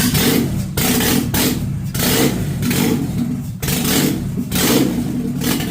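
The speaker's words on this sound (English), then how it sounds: "If I keep giving it gas, it stays started." A Nissan Hardbody truck engine cranks and revs in repeated bursts, each surge of gas rising loud and close then dropping off, as the engine struggles with a fuel problem.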